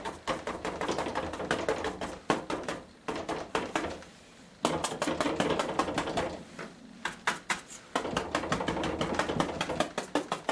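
Rapid dry tapping and dabbing of a brush stippling acrylic paint on board, in quick bursts with short pauses, close and fairly loud.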